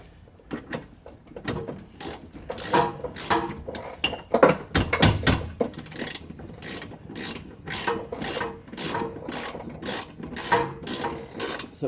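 A ratchet tightens a bolt on a Volvo S60 rear shock mount, giving off irregular clusters of sharp clicking strokes with metallic clinks, close by and fairly clear.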